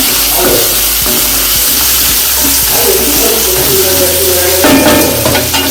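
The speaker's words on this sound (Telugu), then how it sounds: "ఈ టైంలో ఉప్పు వేస్తే ఆనియన్స్ బాగా వేగుతాయి" Onions fry with salt in a pan while drumstick gravy is being made, giving close, continuous sizzling with intermittent stirring and scraping clatter, a brighter burst of hissing near the end.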